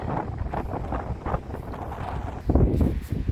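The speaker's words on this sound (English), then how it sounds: "The wind is still very strong up here because this is one of the high points in the mountains." Strong wind buffets the microphone on a high point in the burned Topanga Canyon mountains, giving steady loud rumbling gusts that swell near the end.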